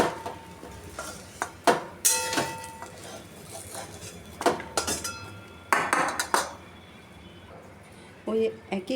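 Fried banana-flower fritters being lifted from a pan of oil, a series of sharp metal clinks and scrapes of a spatula against the pan over a soft sizzle, irregular and close.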